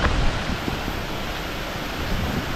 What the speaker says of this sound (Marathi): खालच्या साईडला नदीच आवाज येते